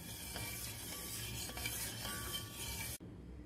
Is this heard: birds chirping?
no